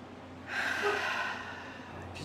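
A couple of slow, deep breaths taken in a calm guided-meditation setting: a soft, airy inhale swells and holds steady for a couple of seconds under a faint low hum, with no talking.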